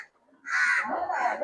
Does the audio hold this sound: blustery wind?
no